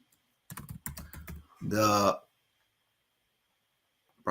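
Quick keystrokes on a computer keyboard come in a short close burst at a desk, followed by a brief spoken word and then silence.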